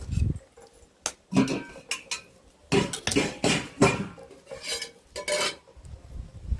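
Eggs are cracked one after another into a bowl for an egg paniyaram curry, giving a series of sharp taps, clinks and wet splats in an irregular rhythm, close and fairly quiet.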